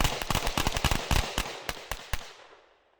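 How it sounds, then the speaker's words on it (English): A rapid string of sharp gunshots cracks in quick succession, some overlapping, then the reports fade into a trailing echo. "a lot of gunshot in a little bit of time"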